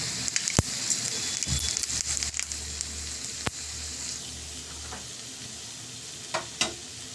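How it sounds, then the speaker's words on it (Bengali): Fenugreek seeds tempered in leftover oil from frying rohu fish for a fish chorchori, giving a steady close sizzle with a few sharp crackles and spatters, with no talking. "মাছ ভাজার তেলটাতেই মেথিটা ফোড়ন দিয়ে দিলাম"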